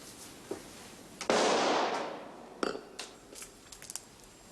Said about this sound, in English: That was a gunshot, sir.